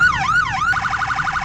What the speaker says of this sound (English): you do have your spotlight along with your police lights and your 3 different sirens.